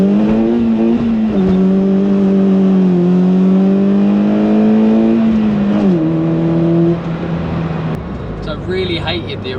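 A Ford Fiesta ST150 with an OMP steering wheel fitted, heard from inside as the engine hums loud and steady and rises in pitch through acceleration, then drops back after a gear change.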